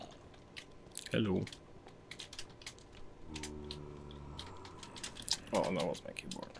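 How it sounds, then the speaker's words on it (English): Computer keyboard typing during a Better Than Wolves Minecraft session, with short bursts of clicky keystrokes scattered through the clip, close and moderately loud, mixed with background game sounds and someone speaking briefly. "Oh, that was my keyboard."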